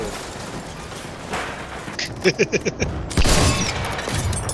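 A muffled explosion booms over steady background noise, with a quick series of sharp popping hits before it, in the video game Battlefield 1.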